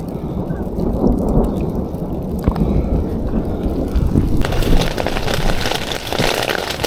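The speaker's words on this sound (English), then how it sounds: "And here comes the rain." A thunderstorm with rain during a truck tent camp: a steady, loud rumbling roar of wind and rain, with the hiss of heavier rain rising toward the end and no talk.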